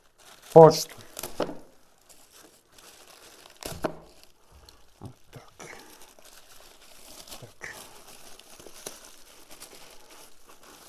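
Packaging for SMAILWULF L80 and BINNUNE BW-06 gaming headphones crinkles as a delivered parcel is unboxed, with a loud burst of crackling near the start followed by scattered softer rustles and handling noises, and a voice speaking briefly between them.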